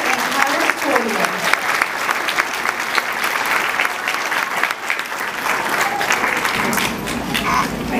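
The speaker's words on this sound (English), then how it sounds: "Let's give all these students a big round of applause." Applause for students at an end-of-school-year third grade assembly, a steady dense clatter of many clapping hands filling the room for about eight seconds, with some cheering voices mixed in.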